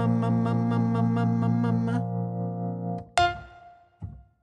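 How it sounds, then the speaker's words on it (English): Waves CP70 electric piano playing sustained chords with a short reverb tail, then two brief struck notes ringing out and decaying, heard alone without talk. "Short reverb."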